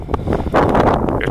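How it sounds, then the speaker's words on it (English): Gusty wind buffets the microphone outdoors on an off-grid property, a brief rough roar of low rustling bursts that swells halfway through. "It's getting windy"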